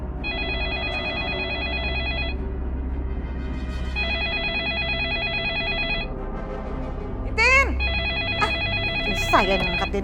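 A telephone rings in a home, three long electronic trilling bursts separated by short gaps, loud and near, with brief rustling movement near the end.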